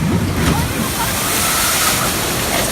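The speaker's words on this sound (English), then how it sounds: "It's quite a splash." Log flume boat on a theme park ride splashing into water, a continuous loud rush and slosh of spray filling the whole moment.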